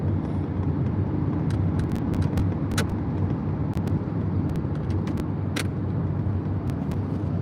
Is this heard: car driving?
yes